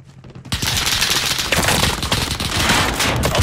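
Heavy automatic gunfire in Call of Duty Warzone bursts in after a brief quiet moment, a dense, loud, close fusillade of overlapping shots that runs continuously to the end without any talking.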